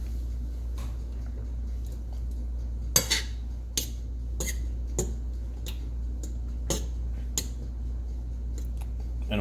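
A fork whisks white sauce in a pan, giving sparse, sharp metallic clinks and taps at an uneven pace over a steady low hum.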